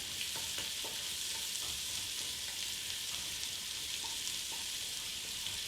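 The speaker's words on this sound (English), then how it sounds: "And then I'm adding my diced onion to the bacon and the bacon fat. Just to saute the onion." Diced onion sautéing in bacon and bacon fat, a faint, even crackling sizzle with light scattered pops throughout.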